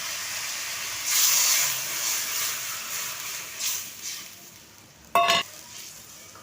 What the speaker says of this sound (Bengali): আলুর সাথে মশলাটা আমার কষানো হয়ে গেছে, এবার আমি জলটা দিয়ে দেবো।